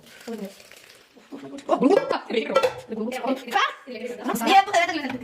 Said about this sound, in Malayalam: നമുക്ക് നല്ലോണം മിക്സ് ചെയ്ത് കൊടുക്കാം